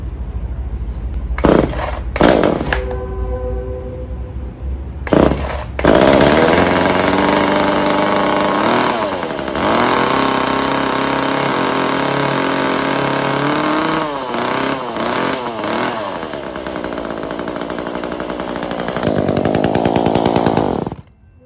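An Echo CS 306 chainsaw with a newly replaced carburetor is started with a few sputtering pulls, then runs loud and steady close by with a raspy two-stroke drone, revving and dropping briefly before a final louder rev.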